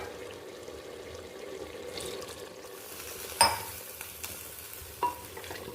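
Kerala-style beef curry with added water being stirred in a pressure cooker: quiet sloshing and scraping, then two sharp clinks of a spoon against the metal pot near the end, with no talk.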